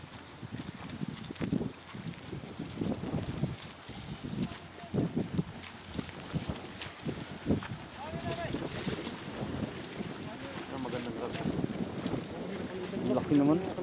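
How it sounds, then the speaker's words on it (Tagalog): Big sea waves roll in along the Corniche seaside, a steady rough wash of surf with heavy wind buffeting the microphone and people chatting nearby throughout. "Malaki ang alon."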